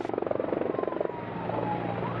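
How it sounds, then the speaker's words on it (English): Firefighting helicopters fly over bushfires burning through grass and shrub at Plenty Gorge, their rotors giving a loud, rapid rhythmic chop that smooths into a steady engine roar as they pass. "Helicopters dropping thousands of litres on large fires tearing through grass and shrub at Plenty Gorge"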